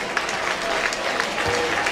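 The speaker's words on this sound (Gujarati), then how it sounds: "તાળીઓ પડશે જ" An audience at a Devda family community gathering in Mumbai applauds steadily, a dense continuous patter of clapping held at even loudness throughout.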